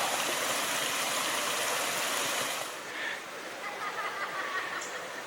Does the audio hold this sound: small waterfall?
yes